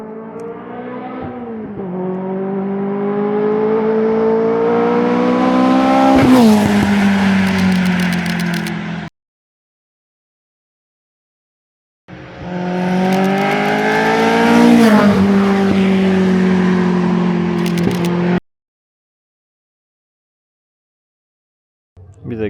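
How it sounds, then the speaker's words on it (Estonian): Car engine driving up and maneuvering into a parking pocket, a steady running engine with rising revs in two long passes, separated and followed by silence. "nüüd teeme niimoodi, et Fred tuleb autoga."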